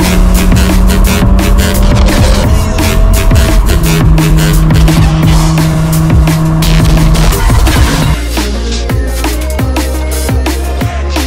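Inside an Audi RS3 with 405 horsepower accelerating hard, the engine roars loudly and climbs through the revs in a long rising pull, then drops sharply at a gearshift and keeps building, heard close from the cabin.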